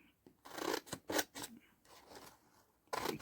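Scissors snip through paper for a small handmade junk journal label, several quiet close cuts in short bursts with pauses between them, no talking.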